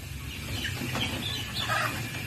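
Chickens on a farm cluck and squawk in short overlapping bursts, moderately near, over a low steady background hum.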